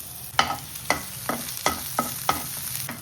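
Finely chopped green chillies and garlic fry in ghee in a pan, with six or seven distinct scraping stirs over a soft sizzle, close and moderately loud, no talking.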